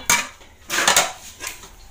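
Rice being served onto a plate at home, with dishes and cutlery clattering in three short bursts of clinks and scrapes, close and moderately loud, no talking.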